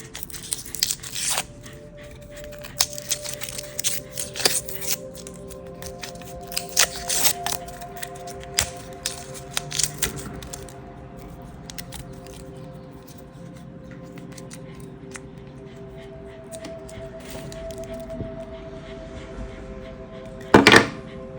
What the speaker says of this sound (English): It's more unwrapping to be done.